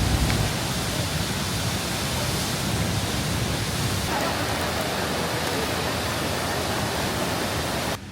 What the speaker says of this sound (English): We're here at the waterfalls